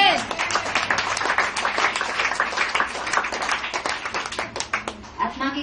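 A church congregation clapping hands in praise, dense rhythmic applause filling the room with a voice talking over it throughout.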